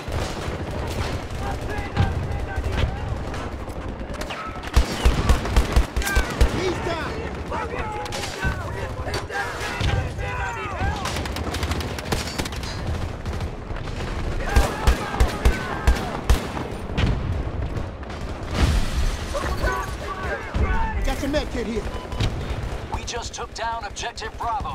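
Sustained gunfire and explosive blasts from a Battlefield 3 Remastered firefight on Noshahr Canals, with loud bursts of shots over constant rumbling battle noise and intermittent talk throughout.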